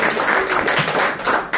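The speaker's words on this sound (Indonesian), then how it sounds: "tepuk tangan ya buat yang di Samarinda" A workshop audience claps for participants from Samarinda at a public speaking session, a dense burst of hand clapping lasting under two seconds that stays loud throughout.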